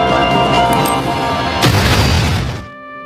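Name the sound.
explosion of Lupin's explosives blowing open a door, film effect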